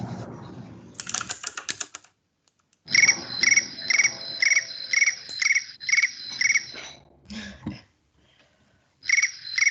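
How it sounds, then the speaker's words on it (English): Cricket chirps used as a sound effect, arriving in quick rhythmic bursts of high pulsing trills with short gaps between them, clear and prominent against an otherwise quiet background. "Crickets."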